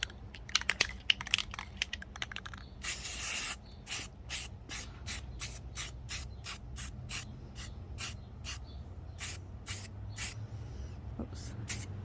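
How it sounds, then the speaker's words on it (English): Spray paint from an aerosol can hisses onto vases in a long run of short, evenly spaced bursts, close and clear, with faint background rustling between them. "So now I'm just gonna start spray painting them."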